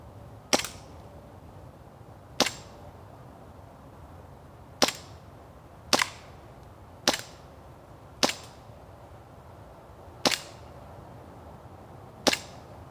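Eight sharp, isolated pops from a WE M92F Samurai Edge airsoft pistol, fired outdoors at irregular intervals of one to two seconds, with quiet gaps between shots.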